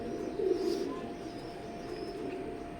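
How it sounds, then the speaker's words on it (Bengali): Saki line teddy pigeons, imported breeders, make a soft, continuous throaty cooing nearby, with a slightly louder burst early on before settling into a steady low murmur. "সাকি লাইনের কবুতর"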